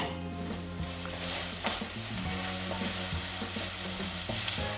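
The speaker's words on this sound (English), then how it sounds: "give that a good stir fry" Ginger, fresh curry leaves and pandan leaves are stir-fried in a pan for a Sri Lankan polos ambula, producing a continuous crackling sizzle with intermittent scraping as the mixture is tossed.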